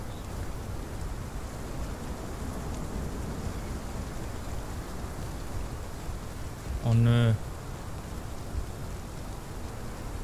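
Steady rain in the dinosaur survival game Path of Titans hisses as a constant broadband wash throughout, with a brief voiced exclamation partway through.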